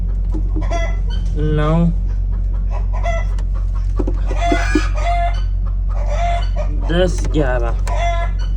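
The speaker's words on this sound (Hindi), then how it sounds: "ये जो मुर्गी चीख रही है ना, इसको अंडा आया हुआ है" A farm hen that is about to lay an egg clucks and cackles loudly and repeatedly, close by, in an uneven run of squawking bursts over a steady low hum, while a man counts eggs aloud.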